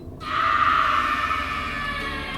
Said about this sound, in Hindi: मेरी चीख निकल गई।